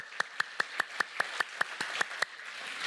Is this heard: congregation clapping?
yes